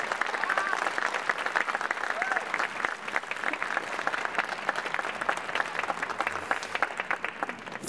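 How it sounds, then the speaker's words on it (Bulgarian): Applause for a folk choir at a choir night concert: a steady, sustained clapping from a sizeable audience that carries on loudly throughout. "Нека да ги изпратим с аплодисменти."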